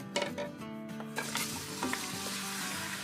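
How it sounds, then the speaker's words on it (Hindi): Beef sizzles loudly in hot oil previously used to fry onions, on high heat, while a utensil scrapes and stirs against the pan. "अब इसी ऑयल में जिसमें हमने प्याज फ्राई किया है तो गोश्त को फ्राई करेंगे।"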